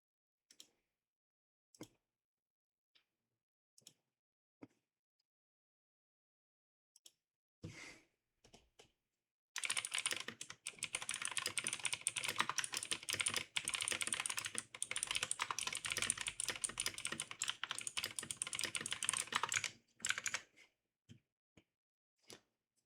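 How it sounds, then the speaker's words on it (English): Typing on a computer keyboard: scattered isolated keystrokes at first, then a dense, rapid run of clacking keys for about ten seconds, close and fairly quiet, ending in a few final taps. "Ignore my typing."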